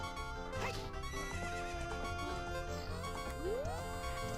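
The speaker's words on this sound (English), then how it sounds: "I forgot how awkward riding a horse could be." A horse whinnies in the video game Ocarina of Time, a rising neigh cutting through steady background game music and hoof-like clatter.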